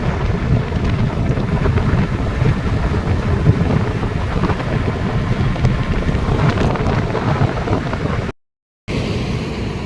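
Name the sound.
strong wind blowing during a scooter ride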